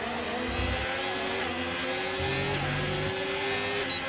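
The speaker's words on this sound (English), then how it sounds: "hang on, I hear an engine" Simulated Formula 1 car engine from the racing game F1 25, a steady mid-pitched whine with rising revving tones sweeping upward, heard continuously and fairly loud without speech.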